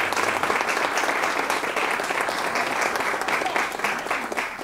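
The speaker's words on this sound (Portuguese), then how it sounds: "Uma salva de palmas para a nossa querida Alzira" Literary festival audience in Sabará giving a loud, sustained round of applause, a dense even wash of many hands clapping close by that continues steadily throughout.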